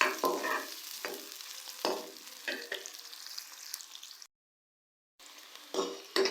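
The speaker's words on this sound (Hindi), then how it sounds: "प्याज को हम लोग जो है हल्का सा ब्राउन कर लेंगे। बिल्कुल लाइट से हम लोग इसे गोल्डन करेंगे।" Sliced onions frying lightly in oil in a pan, a moderate steady sizzle broken by several spatula stirs and scrapes, with a brief gap of silence before the sizzling and stirring resume.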